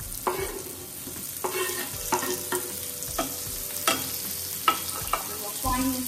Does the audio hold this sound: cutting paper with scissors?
no